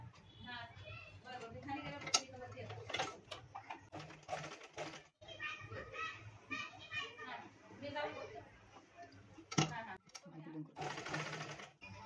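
A sewing machine stitches petal shapes for a blouse design in short, repeated runs, with children's voices and someone speaking nearby throughout.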